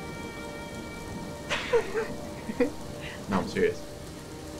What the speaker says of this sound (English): Wow, it's really raining hard.